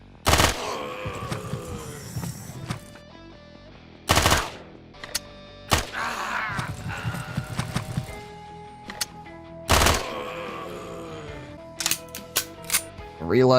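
Gunfire in the turn-based video game Quasimorph: several separate loud, sharp bursts spaced a few seconds apart, each followed by ringing game effects and quieter clicks, with a voice speaking faintly between shots.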